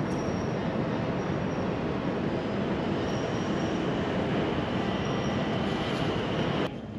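An airport shuttle train to Gate A runs with a loud, constant rumble and a thin high whine of wheels on rail, then stops abruptly near the end.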